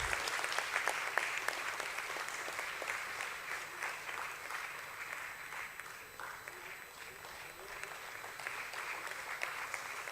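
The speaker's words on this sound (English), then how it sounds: "I want the loudest applause for this lady, Ms. Jayashree Rajesh" Audience applause at a stock exchange listing ceremony for a financial services company, a continuous, fairly even round of clapping lasting about ten seconds, with faint voices mixed in beneath it.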